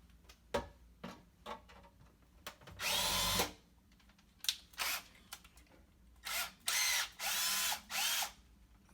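Several bursts of a power drill whirring while drilling a hole through a sink, each lasting about a second, separated by short pauses and a few light clicks, fairly close.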